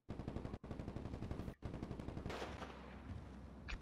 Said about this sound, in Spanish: ¡Ah! ¡Hay disparos!